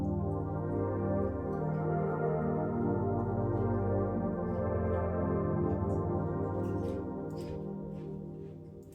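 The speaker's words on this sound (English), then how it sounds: "Then we got this pad from Omnisphere" A sustained Omnisphere synth pad plays soft chords by itself, a warm, dense drone that shifts gently between harmonies at steady moderate volume and thins slightly toward the end, with no voice over it.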